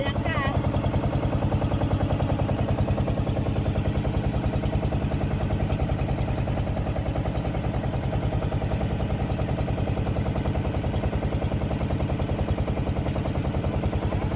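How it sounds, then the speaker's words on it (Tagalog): A boat engine idles steadily and loudly up close, a continuous low throbbing rumble with no pauses. "Rescue boat pala eh."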